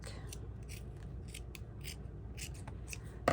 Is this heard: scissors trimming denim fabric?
yes